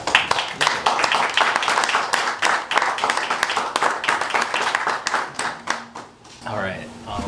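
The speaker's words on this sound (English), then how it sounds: "So give Matt a round of applause." A small audience at an evening talk gives a round of applause, dense overlapping claps for several seconds that thin out near the end, with a voice starting to speak under the last of it.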